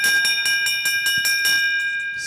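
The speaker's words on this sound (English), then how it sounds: "Santos Griswold comes through on the bell lap" A bell rings rapidly in a fast repeated series of bright strikes to signal the bell lap of a short-track skating race at the US Championships, loud and close, heard alone.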